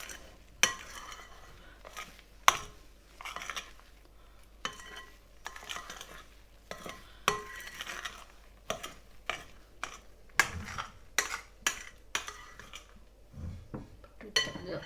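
A spoon folds and stirs chocolate mousse mixture in a bowl, giving close, irregular scrapes and soft clinks against the bowl throughout, with no talking.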